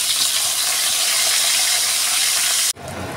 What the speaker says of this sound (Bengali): নুন হলুদ মাখানো বেগুনগুলো গরম তেলের মধ্যে ছেড়ে দিলাম।